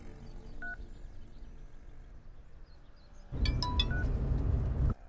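A telephone is dialed, one faint early tone followed by a louder burst of rapid keypad tones near the end, close-up with no talking.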